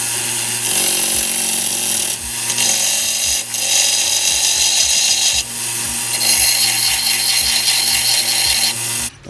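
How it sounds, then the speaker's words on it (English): Power sanding grinds away the leftover brass tube on a turned throwing-knife pen blank, a loud continuous abrasive whir broken by rhythmic pulses and short pauses where the tool lifts off. "Time to sand off the remaining parts of the brass tube."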